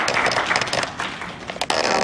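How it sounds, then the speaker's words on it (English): Steady crowd applause at a contemporary art panel discussion, a dense wash of many hands clapping at once with a few sharper claps standing out. "So give yourself a round of applause."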